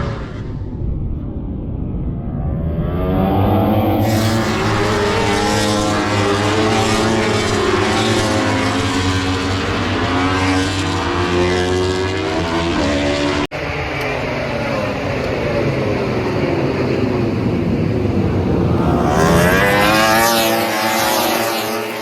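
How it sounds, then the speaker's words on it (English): World Superbike motorcycles race past at Donington during the Superpole race, a loud sustained roar of engines rising and falling in pitch as the bikes pass nearby and trail off. "Here we are then, the Super Pole race of the World Superbikes."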